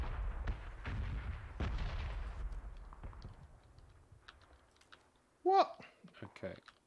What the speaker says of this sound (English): There's a lot of exploding going on right now.